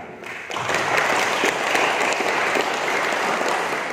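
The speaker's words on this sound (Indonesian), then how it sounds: "Tepuk tangan." A crowd breaks into steady, loud applause that continues evenly for several seconds.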